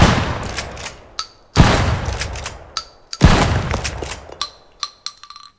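A video game shotgun fires FRAG-12 shells in three loud, sharp blasts spaced about 1.6 seconds apart, each followed by a short decaying boom, with clicking mechanical clatter between shots.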